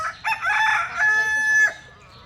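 A rooster crows once in a barnyard among ducks and hens, a loud, close, drawn-out call that rises and holds steady before cutting off, with no talking over it.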